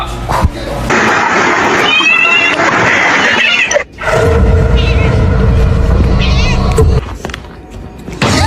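A house cat meows after being kissed, several drawn-out, wavering cries close to the mic amid rustling and handling noise, with a short pause midway before more whiny vocalizing.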